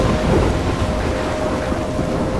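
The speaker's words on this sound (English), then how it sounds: "I'm trapped in a storm?" Thunderstorm in the video game Life Is Strange: loud continuous rumbling thunder with heavy rain hiss filling the whole stretch, no voices.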